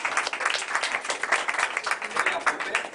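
Audience applause at a Toastmasters club meeting welcoming a speaker, a continuous patter of many hands clapping at moderate volume with a slightly pulsing rhythm.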